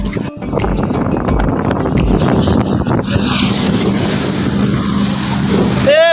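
A motor boat crosses a haor wetland, its engine drone steady beneath heavy wind buffeting the microphone, loud and close throughout.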